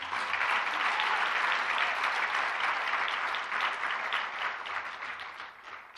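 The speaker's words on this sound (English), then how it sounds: "Marianne, yes, you can applaud" An indoor audience gives sustained applause for an award recipient, dense steady clapping that holds for several seconds before thinning slightly toward the end.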